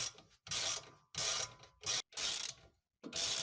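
Ratchet wrench spinning out brake caliper bolts on a Škoda Superb 2 with a CB-series engine, in five quick bursts of rapid clicking separated by short pauses, close and fairly loud with no talking.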